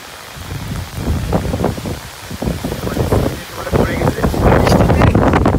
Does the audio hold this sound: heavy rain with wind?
yes